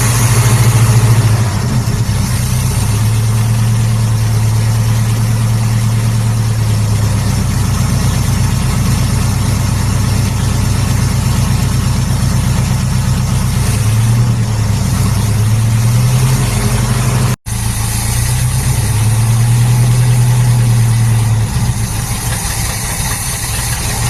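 A hot rod car engine with a tired fuel pump runs steadily close by, a loud continuous low rumble with slight rises in revs and a brief cut near the end; no speech.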